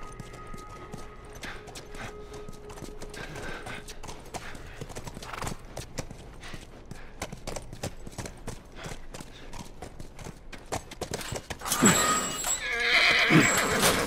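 Rhythmic hoofbeats clip-clop steadily throughout, and near the end a horse lets out a loud, drawn-out whinny, in a video game.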